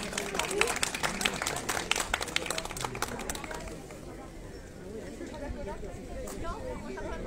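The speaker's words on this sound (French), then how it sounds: "On peut les applaudir très très fort" Applause and clapping for prize winners at a French municipal awards ceremony for Christmas lights and nativity scene contests, dense and lively in the first few seconds, then thinning into crowd chatter and murmuring voices.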